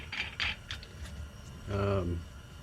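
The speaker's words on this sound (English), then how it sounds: "We're going to put our nut on. We're going to tighten it as much as we can" A nut goes onto a VW Beetle axle and is tightened by hand, making short metallic ratcheting clicks followed by a longer, louder grinding ratchet run, close by and with no speech.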